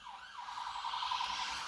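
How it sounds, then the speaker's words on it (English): An emergency vehicle siren wails past outside on a UK street, a rising and falling tone heard at moderate distance, steady and fairly faint, with no talking. "Apologies for that siren blowing through there."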